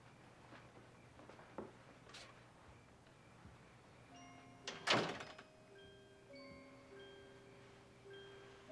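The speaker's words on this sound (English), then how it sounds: "will you please close the door?" A door thuds shut once near the middle, a single fairly close impact followed by a faint electronic tone pattern and low room hum, with no talking.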